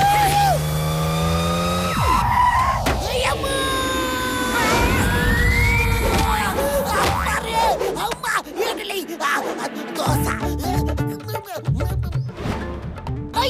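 Cartoon car speeding past in a chase, a loud rising engine whine and rushing motion sweeps mixed with music and siren-like tones, busy throughout, with dialogue voices around it.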